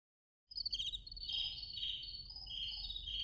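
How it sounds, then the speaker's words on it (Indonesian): Several crickets kept inside a bottle chirp in a steady, faint, continuous trill that starts abruptly and carries on alone. "meletakkan beberapa ekor jangkrik di dalam botol supaya orang-orang tidak bisa mendengarkan pembicaraan mereka"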